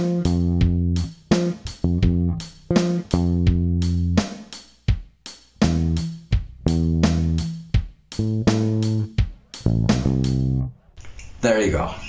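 Bass guitar plays a chorus lick: a rhythmic run of clean, punchy low notes with short gaps, growing busier toward the end before a brief noisy tail.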